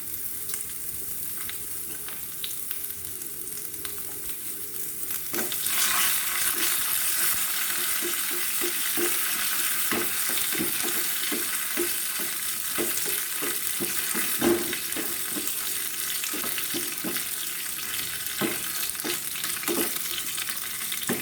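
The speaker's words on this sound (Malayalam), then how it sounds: "ഒരെണ്ണം മതിയാവും അതൊന്ന് ചെറുതായിട്ട് അരിഞ്ഞ് മൂപ്പിച്ചെടുക്കാം" A chopped small onion fries in hot oil for pineapple pulissery, the close sizzle swelling louder partway through, with repeated clicks and scrapes of stirring over the steady crackle.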